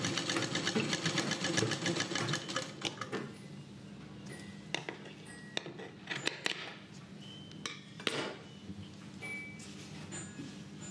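A sewing machine stitches a Kalash saree, running in a fast continuous whir at first, then stopping and starting in short bursts broken by clicks and small metallic clatters nearby.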